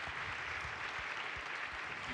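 A room of people at a women's parliament event gives a steady round of clapping, heard at a moderate distance, continuous and even throughout.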